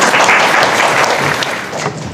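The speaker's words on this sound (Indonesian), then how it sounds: "Ya, tepuk tangan buat Mas." Loud, dense applause from a seated audience at a teaching session, a steady wash of many hands clapping close and continuous for a couple of seconds with no talk over it.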